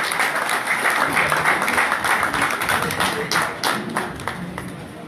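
An audience at a Banaras Hindu University event applauds to greet a speaker, with dense, steady clapping that holds for several seconds in a hall and fades slightly toward the end.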